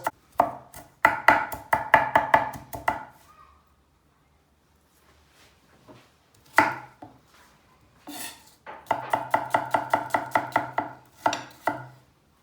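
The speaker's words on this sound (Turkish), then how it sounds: "Soğanı da çok ince doğrayacağız." Rapid knife chopping of onion on a cutting board in quick rhythmic bursts, pausing briefly between runs of fine, fast strokes.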